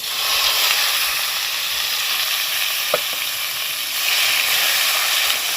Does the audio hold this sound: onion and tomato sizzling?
yes